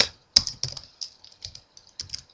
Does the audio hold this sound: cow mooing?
no